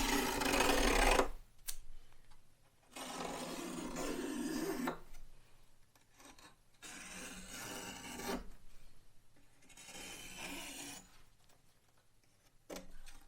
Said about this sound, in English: take that sharp X-Acto blade and just follow the curves